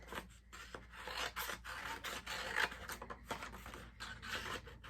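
Scissors trim the edges of printed paper consignment tags, producing a continuous rasping, rubbing cut sound with repeated short strokes, close and fairly quiet, no talking.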